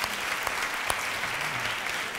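Audience clapping at a docu-concert, a dense, even round of applause from a crowd that holds steady throughout with a few sharper individual claps.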